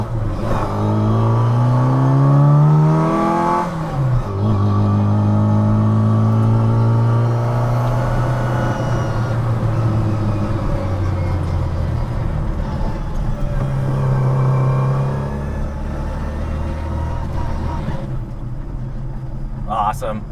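A hot rod Mini Cooper cruises at freeway speed with a loud, steady engine drone and intake roar that rises and falls with the throttle, and people talk over it throughout.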